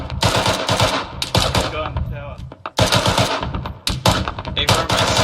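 A ZU anti-aircraft gun firing in Arma 3, heard as loud, continuous rapid automatic bursts that fill the whole stretch, with a brief dip in the middle before the firing resumes.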